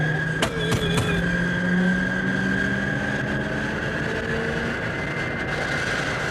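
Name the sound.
engine of an old American car driving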